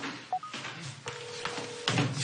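A telephone being dialed gives a few short, separate key tones with light handling clicks in a quiet room, and no one speaks.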